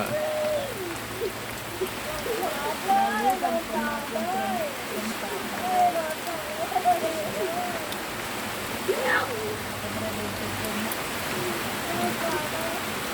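Rain falling on a makeshift temporary roof, a continuous patter of drops over the whole stretch, with some faint vocal sounds partly over it.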